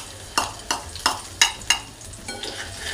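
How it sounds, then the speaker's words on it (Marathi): Finely chopped green chillies spluttering in hot oil in a wok, a run of five sharp sizzling bursts as they are stirred, close and fairly loud, trailing off into softer crackles. "तेल टाकल्यानंतर त्याच्यामध्ये मी दोन ते तीन बारीक चिरलेल्या हिरव्या मिरच्या टाकून घेते।"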